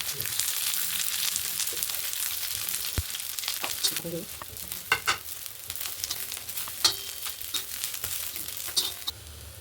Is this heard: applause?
no